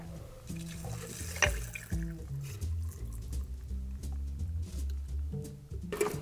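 Maple whiskey collins mix poured into a glass, a soft liquid trickle running for several seconds close by beneath a steady low background, with a brief bright splash-like burst near the start.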